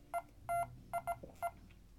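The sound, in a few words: sonic screwdriver universal remote beeping Morse code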